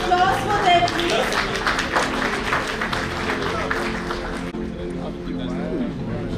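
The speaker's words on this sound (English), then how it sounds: "Can you have a huge round of applause for them, please?" An audience at a national convention valedictory session applauds a winning team with sustained dense clapping that fades toward the end, a voice talking faintly underneath.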